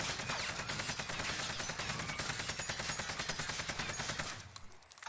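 Rapid sustained automatic rifle fire in Warzone with a SUSAT scope, a dense fast rattle of shots heard up close for several seconds before cutting off.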